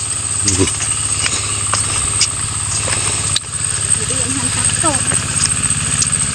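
A noisy tractor engine drones steadily the whole time, a loud, constant low rumble with muffled voices in the background.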